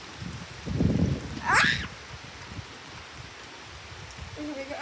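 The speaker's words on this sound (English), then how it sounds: "The trees are moving. That means that the wind is coming over frame." Tropical storm rain patters steadily as wind moves through trees, a soft continuous hiss with gusty rustling and a brief low rumble early on, interrupted by a quick vocal exclamation.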